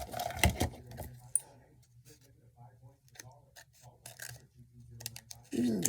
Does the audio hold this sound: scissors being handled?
yes